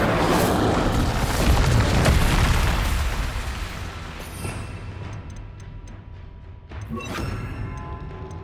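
Incendio fire spell cast in Hogwarts Legacy, a loud roaring whoosh of flame that swells for a few seconds, then fades into a low crackling tail with a brief flare near the end; no voices.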